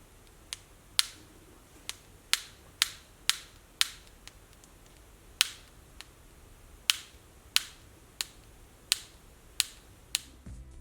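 A Samsung Galaxy S7 Edge full-screen protector with glue that is not adhering gives sharp, close popping clicks when pressed down, about a dozen irregular snaps spaced through a quiet background.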